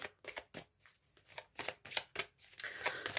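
A deck of tarot cards is shuffled for a reading, giving a quick series of close, crisp riffling bursts separated by short pauses.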